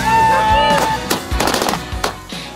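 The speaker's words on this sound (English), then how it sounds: "we found a pub with some really cool people that are shooting off fireworks" Fireworks are set off outside a pub: a rapid series of sharp bangs and crackling pops at close range, following an opening whistling tone, with some talk mixed in.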